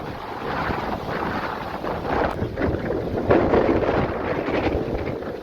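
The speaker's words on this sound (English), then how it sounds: "It's blowing hard." Strong wind buffets a camping tent on the shore at Mosquito Lagoon, Florida, a loud continuous rushing roar with gusty swells and flapping.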